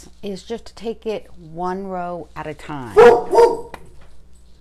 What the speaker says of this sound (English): Whoops, sorry. That's the dog.